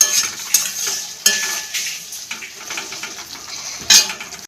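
A spoon scrapes and stirs taro chunks cooked in masala with tomato strips and green chili in a pan. The scraping and clinking come close and a little irregular, over a soft sizzle, with no talk.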